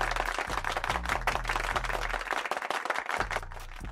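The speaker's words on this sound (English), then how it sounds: "Not only will give him a round of applause" Crowd at a Houston Rockets versus Washington Wizards basketball game applauding, a dense continuous roar of clapping with a low rhythmic music beat pulsing underneath.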